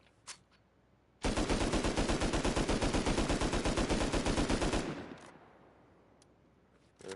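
An AK rifle in Rust Console Edition fires one long, steady full-auto burst of about four seconds, loud and close, after a quiet lead-in, with no talk over it.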